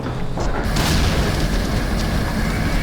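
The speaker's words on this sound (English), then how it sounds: "More like an explosion." A deep, rumbling explosion swells after a brief quieter moment and rolls on loudly, a sustained low roar with crackling debris throughout.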